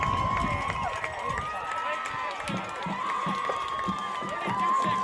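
Football crowd cheering at Ives Lamel Family Field after a 41-yard tying field goal in a Brevard vs. Apprentice game, a steady, dense roar of many voices with shouts rising throughout, heard alone without commentary.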